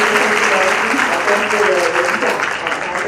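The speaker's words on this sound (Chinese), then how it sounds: "那我们是不是再次热烈掌声？" A lecture-hall audience at a university talk applauds, a dense continuous wash of clapping that stays loud throughout and fades slightly at the end.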